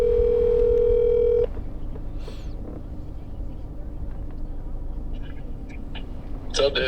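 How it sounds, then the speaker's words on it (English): A telephone call is placed: a steady dial tone for about a second and a half, then quieter line noise with faint tones and clicks as the call connects, ending in a brief louder burst. "Let's make this phone call and see where he's at."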